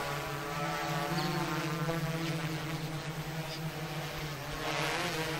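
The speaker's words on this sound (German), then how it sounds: "Das Summe ist die Drohne wahrscheinlich, aber so laut die Drohne." A steady mechanical buzz of a drone in the horror video game Orphans hums continuously, fairly quiet and unchanging in pitch.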